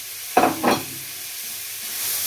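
Garlic sizzling in a pan for beef stew, with two short, close bursts of frying as it is stirred, then a steady faint hiss.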